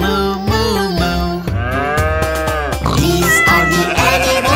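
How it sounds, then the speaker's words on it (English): A cow moos in several long, drawn-out, bending calls set within a children's nursery song, loud and clear over bouncy backing music. "And the cow goes moo, moo, moo."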